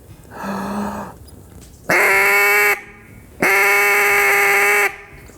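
A hand-blown duck call imitates duck quacks: a softer nasal note, then two long, loud, buzzy quacks, each held about a second, separated by short pauses and heard close up with no talk.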